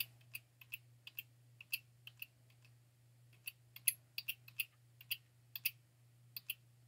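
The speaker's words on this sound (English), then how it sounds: "Just use your arrow down key until they're overlapping at the top." Computer keyboard arrow keys are tapped in scattered single presses and short quick bursts, crisp and close, over a faint steady electrical hum, with no talking.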